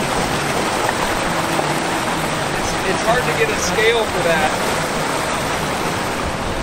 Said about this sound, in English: Oh, there's a whole river of coolant there.